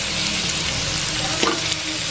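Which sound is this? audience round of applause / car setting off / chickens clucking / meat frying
meat frying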